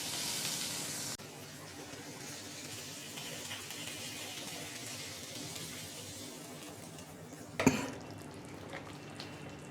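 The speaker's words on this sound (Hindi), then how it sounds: "2 मिनट तक चलाते हुए हम इसे चिकन चिली पर पोर कर देंगे" Chilli chicken gravy, sautéed and stirred for two minutes over a low flame, is poured onto the chicken with a faint, steady hiss and sizzle. A brief wet splash cuts in near the end.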